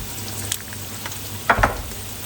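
Shallots or onion sizzle gently in a pan over medium heat while a beurre blanc is prepared, making a soft continuous frying hiss with a few light stirring knocks near the middle, close and without talk.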